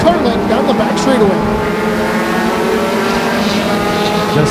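Mini stock race cars at Flamboro Speedway running nose to tail down the back straightaway, a loud, layered engine roar with rising and falling pitches as the cars pass, under a commentator's voice.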